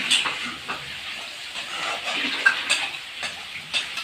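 Bottle gourd pieces fry with chicken skin in a hot pan, a continuous sizzling hiss broken by repeated scraping strokes as the mixture is stirred, close and fairly loud.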